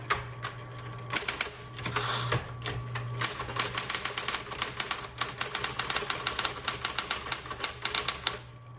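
Typing on a 1960s Smith Corona Electra 120 electric typewriter: a quick run of sharp, close key strikes with a steady motor hum underneath, sparse at first, then a dense, rhythmic burst of clacks.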